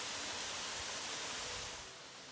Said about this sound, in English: Down a steep hill in the Yorkshire moors, in what feels like the middle of nowhere, we find the most beautiful natural waterfall.